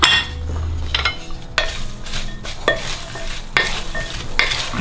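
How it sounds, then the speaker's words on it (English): Green chilli pickle ingredients are mixed together in a bowl, with repeated wet scraping and clinking stirring strokes in uneven bursts, close and fairly loud. "just mix all this together, and then mix all that in there"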